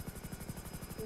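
Helicopter in the GTA Online racing game, a fast rhythmic rotor chop with a steady whine, faint and continuous for about a second, with no talking.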